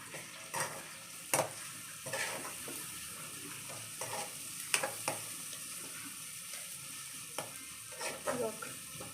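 Curry with turmeric, ginger and garlic frying in a pan while a spoon stirs it: a steady soft sizzle under intermittent scraping and clinking strokes, close up, with no talking.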